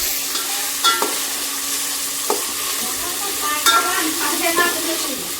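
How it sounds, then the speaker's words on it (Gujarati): Food frying in oil for carrot halwa sizzles steadily with a bright, continuous crackle, broken by a few louder clinks and scrapes of a spoon stirring the pan. "ફ્રાય કરીએ."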